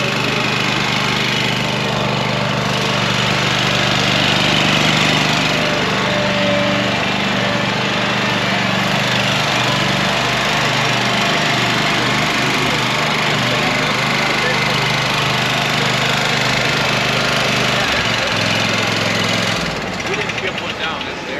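A loud Skag Cheetah 72-inch zero-turn mower engine runs steadily at close range, droning and rumbling without a break for the whole stretch.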